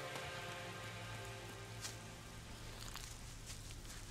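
Rain falls steadily in the video game ELEX, a dense, even hiss of drops spread across the whole clip with no breaks, faint and continuous, with a few soft ticks and a low rumble beneath.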